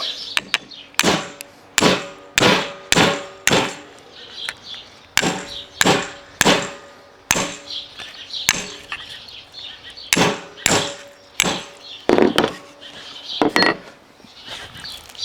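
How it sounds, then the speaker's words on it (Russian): Repeated heavy metallic strikes with ringing clangs, a hatchet driven by hammer blows splitting a carp's head, spaced irregularly at close range with no talking. "ножом его бошку прорезать тяжело. Попробуем топориком и молотком."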